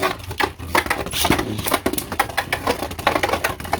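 Beyblade Burst Quadstrike tops Tidal Pandora and Komet Helios clashing in a stadium, a dense, loud stream of rapid metallic clicks and rattling impacts that continues without pause throughout.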